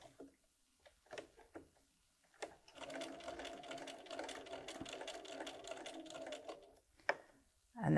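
A sewing machine stitches a quilt block, starting with a few hesitant clicks before settling into a steady, rapid whirring run of several seconds, then stopping with a couple of isolated taps; close and clear, with no talking.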